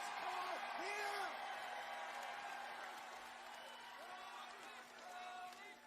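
A wrestling crowd at a TNA iMPACT event cheers in a steady, distant roar, faint and continuous, with talk layered over it.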